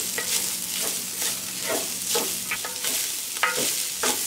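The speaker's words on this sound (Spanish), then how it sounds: "ahora le voy a estar agregando la cebolla picada y el ajo bien picado. Lo voy a mezclar para que se sofría." Chopped onion and garlic sautéing with chorizo for frijoles charros, with a steady close sizzle and a spoon scraping and stirring the pan in repeated strokes, no voices.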